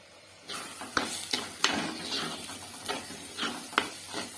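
Chilli powder masala stirred in a pan for a manathakkali kai vathal kuzhambu, with a utensil making repeated scraping, rustling strokes at an uneven rhythm over a soft sizzle, close and alone without any talk.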